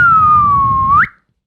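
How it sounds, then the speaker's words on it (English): A person whistles one steady, loud, sustained note that slides gently down, then flicks upward at the end before cutting off into silence. "Can you whistle"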